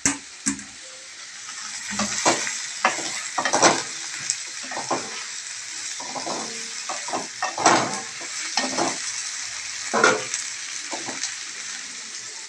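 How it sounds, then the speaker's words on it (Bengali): Spices and boiled potatoes fry in a pan while being stirred, giving a continuous close sizzle punctuated by irregular scraping and clinking strokes of a utensil against the pan, with no talk. "এটা ভাজা হচ্ছে। দেখো এটা ভাজা ভাজা হয়ে একটু সোনালি কালারের রং ছাড়তে শুরু করেছে"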